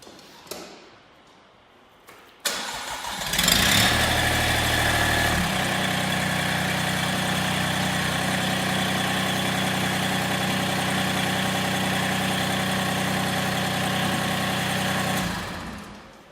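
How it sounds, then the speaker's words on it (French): Massey Ferguson GC1705 compact tractor engine: a few faint knocks, then the starter cranks and the engine catches, revving briefly before settling into a steady loud idle that cuts off near the end. "Je vais démarrer le tracteur"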